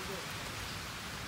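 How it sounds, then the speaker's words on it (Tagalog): Steady rain pattering on a surface at Ridge Park, Tagaytay City, Philippines, a dense continuous hiss with no speech. "Ulan na."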